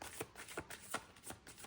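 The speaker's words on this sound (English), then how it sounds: "let me just do a quick shuffle and pull out a card." Tarot cards being shuffled by hand, a quick run of soft papery riffles and slaps in a steady rhythm of about five bursts, close and quiet with no talking.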